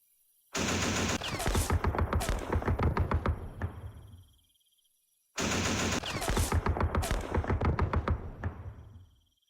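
Gunfire from units in the Campaign Series Vietnam war game plays in two loud bursts of rapid, rattling automatic fire, each lasting about four seconds and separated by brief silence.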